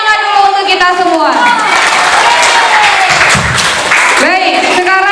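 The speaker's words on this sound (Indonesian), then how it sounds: "tepuk tangan dulu untuk kita semua" Schoolchildren at a museum prize announcement clap and cheer loudly, a bright burst of clapping mixed with high excited shouts and voices throughout, close and intense.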